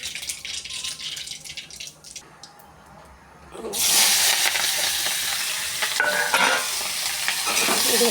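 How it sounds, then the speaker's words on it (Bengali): Fish frying in oil in a pan. A low background for the first few seconds, then a loud, dense, steady sizzle that fills the rest, close and unbroken, with no talking. "মাছটা ভেজে নিই।"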